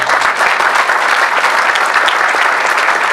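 A church congregation applauds in honour of the young people who decorated the church. The clapping is steady, dense and loud, with no break, filling the whole stretch without voices.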